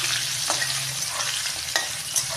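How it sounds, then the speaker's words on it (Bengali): Potatoes frying with turmeric in a pan, a steady close sizzle with occasional soft stirring scrapes, no voices. "আলুগুলো ভালো করে ভেজে নেব।"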